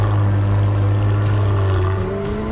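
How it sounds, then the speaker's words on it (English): McLaren W1 hypercar exhaust revving loudly and steadily, a strong sustained engine drone with a pitch shift near the end as the revs change, close and alone with no voices. "plus the soundtrack of the exhaust"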